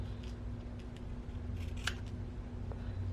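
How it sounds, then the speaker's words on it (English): Small scissors snipping paper to trim junk journal ephemera, a few close, quiet cuts over a faint steady hum. "I'm going to go in and trim that up on either side."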